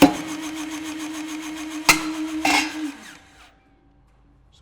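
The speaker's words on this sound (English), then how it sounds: "as it cuts through the material, there's a few pops, releases, not hot at all" A TrueShear cutter shears through a single steel stud with a steady mechanical whine, punctuated by two sharp pops as the metal releases, then the cutting stops and fades to quiet.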